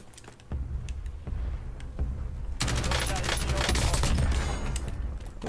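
Rapid automatic gunfire rattles through a video game match, sporadic shots at first and then a dense sustained burst, with a player talking over it.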